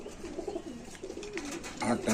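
Pigeons coo softly in cages at a pigeon sale, a steady low murmur of calls that swells near the end, with people talking over it.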